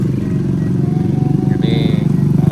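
A Honda Beat scooter motorcycle passes close by on a road, its engine giving a steady, loud, buzzing drone with a slight pulsing throb throughout.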